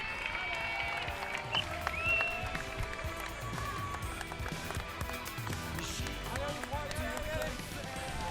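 Spectators clapping along a triathlon course at La Baule as an athlete passes through transition, steady scattered applause mixed with crowd noise and amplified commentary.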